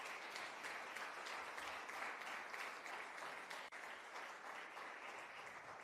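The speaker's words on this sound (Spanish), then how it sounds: "yo creo que Dios se merece un fuerte aplauso" A church congregation applauds steadily, dense clapping filling the room without pause for several seconds, heard from a distance.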